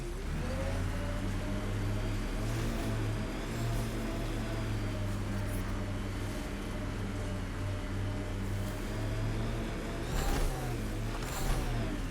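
Steady mid-pitched engine drone of a car driven in Mass Effect: Andromeda, holding a sustained hum with slight pitch shifts, then swelling briefly with a couple of whooshing surges near the end; no talking over it.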